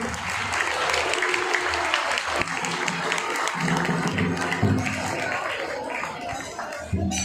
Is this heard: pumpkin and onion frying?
no